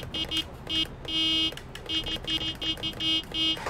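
A city bus horn honks in a rhythmic pattern of repeated short and long blasts, loud and close, with a few pauses between bursts over engine and road noise.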